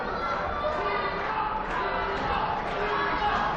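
A wrestling crowd at a live indie show cheering for Shima, a dense continuous roar of voices filling the hall at a steady loud level, with a commentator talking over it.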